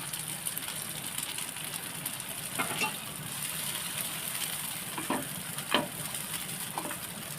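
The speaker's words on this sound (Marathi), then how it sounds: "जे गवार घेतले आहे ते पॅनमध्ये थोडे तेलामध्ये परतून घ्यायचे" Steady oily sizzling of cluster beans sautéing in a pan runs throughout, with a few sharp clicks and scrapes of stirring breaking through now and then.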